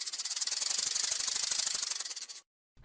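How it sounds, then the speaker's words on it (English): A snake hisses for about two and a half seconds in a loud, airy, rhythmically pulsing rasp, close and alone, then cuts off into silence. "Snakes make a hiss sound."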